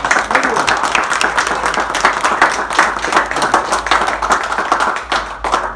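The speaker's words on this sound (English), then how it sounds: "let's give Roger a round of applause." Audience applause at a civic tribute in Binghamton, with distinct, crisp individual claps from a modest crowd close by, rhythmic and fairly loud, continuing steadily for several seconds.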